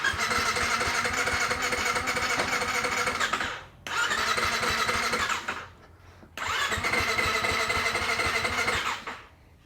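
A motorcycle engine with freshly rejetted carburetor repeatedly cranks and catches, revving loudly in three long bursts separated by short drops to near silence as it stalls and is restarted.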